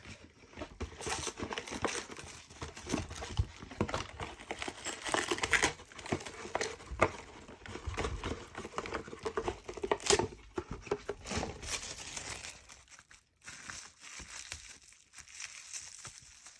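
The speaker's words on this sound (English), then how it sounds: "I should have cut more saran wrap. Let's grab some more." Saran wrap plastic film being pressed onto a wet watercolor wash gives off a steady run of close, busy crinkling and crackling that rises and falls for the whole stretch, with no voices.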